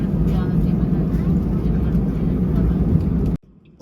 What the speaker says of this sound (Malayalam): റൺവേയിലേക്ക് കൊണ്ടുപോവുകയാണ് ഫ്ലൈറ്റ്.